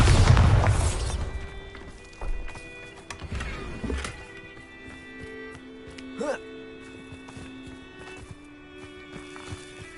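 A Bombarda blasting spell goes off in Hogwarts Legacy with a loud, deep boom at the start that decays into rumble, followed by smaller thuds and magical tonal effects.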